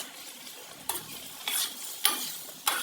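A utensil stirs marinated chicken fillet sizzling in a pan. There are four or five distinct scraping strokes over a soft, steady frying hiss, close and fairly quiet, with no talking.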